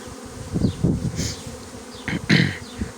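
Honeybees loaded with pollen buzz close by in overlapping drones that swell and fade as individual insects pass, steady humming with no voices.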